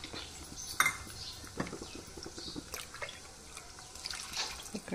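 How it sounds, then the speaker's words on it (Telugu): Water is poured into a pan of onions fried in oil for cashew upma, a faint, uneven splashing and trickling with small clinks of kitchenware. "ఇప్పుడు మనం వాటర్ పోసుకుందాము."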